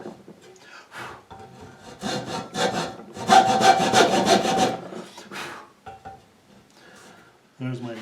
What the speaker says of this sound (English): I got to be really careful to make these marks with my hacksaw first, so that they're precise